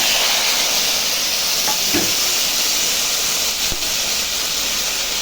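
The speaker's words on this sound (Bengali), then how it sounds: "এখন পটল আর আলুটা ভেজে নিচ্ছি" Pointed gourd and potato frying in a pan, a continuous bright sizzle and hiss with a few soft clinks of stirring partway through.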